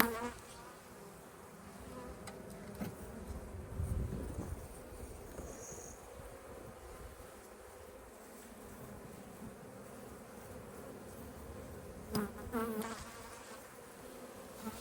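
Honey bees buzzing around an open hive as frames are pulled from the brood nest, a steady, soft, close swarming drone with occasional louder passes near the microphone and no speech.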